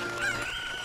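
A cucco in Ocarina of Time gives a short, steady clucking call, brief and fairly clear against a low background hum.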